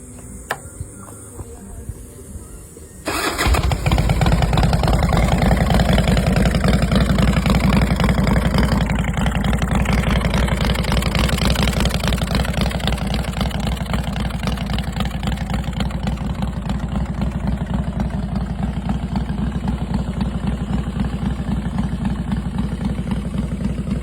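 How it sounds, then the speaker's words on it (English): A 2002 Harley-Davidson Dyna Wide Glide motorcycle fires up after a few seconds of quiet, then settles into a loud, steady, close-up idle with a deep, even engine rumble that continues to the end. "2002 Harley-Davidson Dyna Wide Glide"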